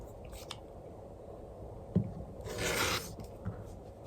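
A rotary cutter drawn along a ruler through quilt fabric makes a faint scraping rasp, with a soft tap and then a short gritty slice over quiet room noise, alone without talk.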